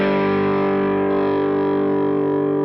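Electric guitar played through a PLUS overdrive/boost pedal, a sustained distorted chord ringing loud and steady with a slight gain and volume bump, thick harmonics throughout.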